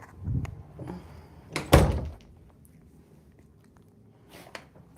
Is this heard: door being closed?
yes